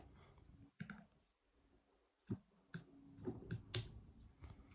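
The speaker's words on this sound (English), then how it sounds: "I'm just going to trim the wick stem" Scissors trim a candle wick, giving a few faint, sharp snips and clicks close by, with quiet handling noise between them.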